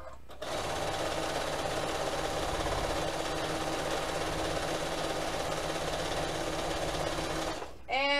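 A sewing machine runs continuously while quilting, a close, even mechanical whir that starts abruptly and stops just before the end, with no talking.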